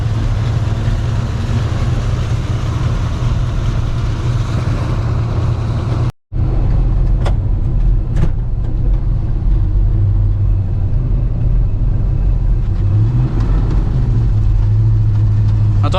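A 1971 Chevrolet C20 Custom Deluxe truck with a 350 V8 cruises along, its engine a steady loud rumble mixed with road noise, easing up and down gently with a brief dropout partway through.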